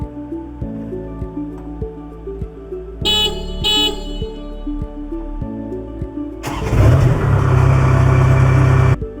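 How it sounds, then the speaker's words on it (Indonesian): A Kubota DC 70 combine harvester sounds its horn twice in short loud blasts, then the engine cranks and catches, settling into a steady loud running roar. "menyalakan bunyi klakson sebanyak 2 kali"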